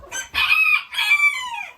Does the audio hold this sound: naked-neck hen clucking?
yes